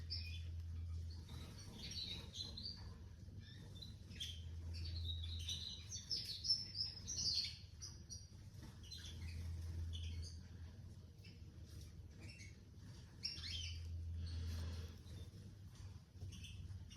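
A young Agate Aurora finch, not yet in final plumage with a short tail and small wings, gives repeated high, thin chirps and tweets over a steady low hum, close by with no talk.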